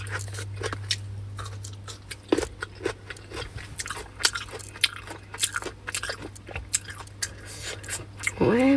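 Crunchy bites and wet chewing of an extremely spicy chili pickle, close to the mic, as irregular crisp clicks and squelches over a steady low hum.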